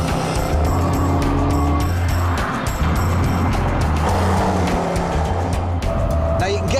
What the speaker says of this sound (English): The one I'm in is the supercharged petrol V8 with 503 brake horsepower